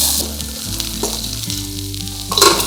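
Mutton pieces fry in a pan as they start releasing their juices, a loud close sizzle steady throughout over a low hum, with a few soft stirring scrapes and a brighter surge of hissing at the end.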